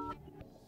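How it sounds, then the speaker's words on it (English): Keypad dialing tones from the phone app of an OPPO Find X7, a couple of brief quiet beeps at the start followed by faint background. "go to the phone app and now dial a number"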